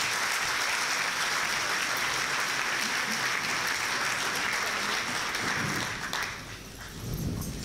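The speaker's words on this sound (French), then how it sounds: "C'est monsieur Jean Lassalle que je vous demande d'applaudir." Audience at a business entrepreneurs' forum and debate applauding, a dense, steady clapping that fills the room and then thins and tapers off near the end.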